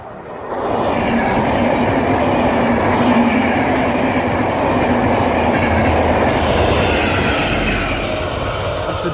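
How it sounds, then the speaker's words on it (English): A train rolls past close by, a loud sustained rumble with rhythmic wheel clatter that swells in and holds steady before easing slightly at the end. "There's another train coming."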